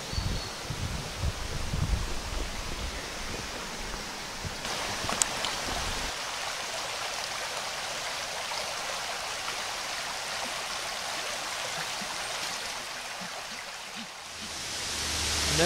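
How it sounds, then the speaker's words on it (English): Waterfalls at Pwll-y-wrach in Wales rush in a steady, broad roar that holds for the whole stretch. Heavier low rumble and handling noise sit in the opening seconds before the flow settles into an even hiss. "And there it is behind me, the waterfalls of Pwll-y-wrach."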